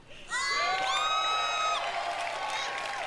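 Live audience at the Bethesda E3 2018 press conference erupting into loud cheers, whoops and shouts that swell and hold for a couple of seconds before easing slightly, a dense crowd roar close to the listener.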